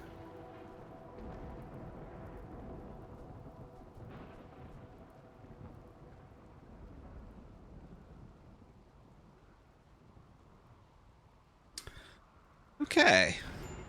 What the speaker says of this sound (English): Oh, the rain.